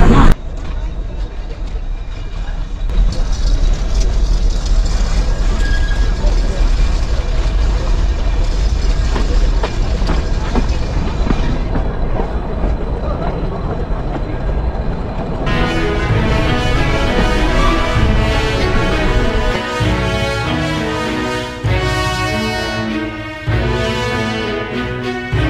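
A loud, continuous rumble and roar from the Nilgiri toy train running near Ooty and Coonoor, broadband and close, with its character shifting partway through.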